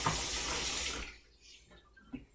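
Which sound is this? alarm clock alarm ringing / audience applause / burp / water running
water running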